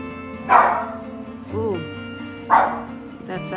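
A house dog named Jordan barking indoors, two loud close barks about two seconds apart with softer whining yips between, over a steady background hum.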